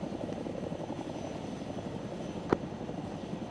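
Chinook helicopter in the Arma video game, a steady, moderately loud rotor thrum and engine drone running throughout, with one brief sharp click partway through.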